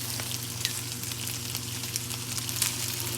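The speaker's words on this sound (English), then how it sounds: "We got some sizzling going on here." Chicken pieces sizzle in sesame oil in a pan, a steady close frying crackle with occasional sharper pops, no talking over it.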